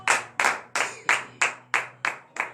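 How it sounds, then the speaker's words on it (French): A church congregation claps in a steady, brisk rhythm during a morning prayer service in Benin, with about seven sharp, loud handclaps in quick succession and no talking. "Donnez de vives acclamations à l'Éternel."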